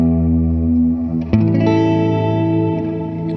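Encounter ambient delay and reverb pedal in its Lo-Fi engine with distortion turned off: smoother sustained tones with reverb and echo, a new chord struck partway through, steady and fairly loud with no voice.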